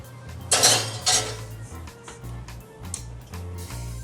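A cast iron skillet is picked up and set down on a stovetop before preheating, giving a couple of close, heavy metallic clanks and knocks followed by quieter rattles, with no one talking.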